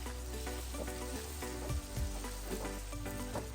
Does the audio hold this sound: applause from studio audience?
no